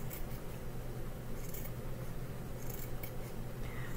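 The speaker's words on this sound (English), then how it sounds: "cutting the felt a 5x5 or a 7x7" Scissors cutting felt squares for a rag quilt, a soft, steady close-up crunching and snipping with a few sharper clips standing out.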